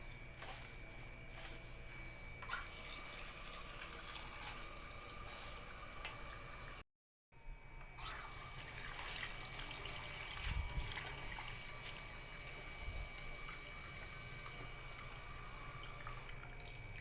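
Tap water runs steadily over sliced long green chili peppers being washed in a sink, a continuous trickling splash with a brief break partway through.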